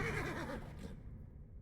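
A horse in Age of Empires IV gives a single loud whinny with a quavering, wavering pitch that fades out within a second, heard alone.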